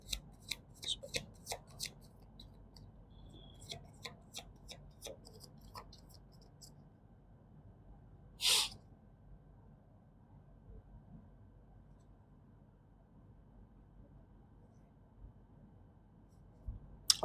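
Tarot cards being shuffled quietly up close, a scattering of soft riffles and taps early on, then a longer stretch of near silence broken by a single brief swish.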